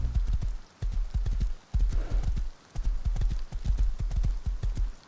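A horse in the game Rust gallops in quick, rhythmic hoofbeat bursts separated by brief pauses, with a short whinny partway through; no one speaks.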